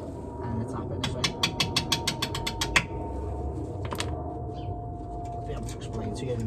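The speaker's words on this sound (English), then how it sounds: "It's 13mm socket to undo the bolts." A ratchet with a 13mm socket undoing front brake bolts on a Range Rover 4.4 TDV8 L322 with Brembo brakes, giving a quick run of about a dozen crisp clicks, then a few fainter clicks later, close by in a quiet workshop.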